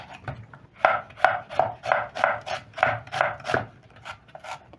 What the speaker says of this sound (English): I'm going to start off by chopping one white onion.